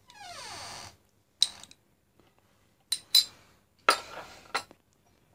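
A spoon clinks against a small bowl while gel is mixed with lemon juice, several sharp, close metallic taps separated by short pauses in a quiet room.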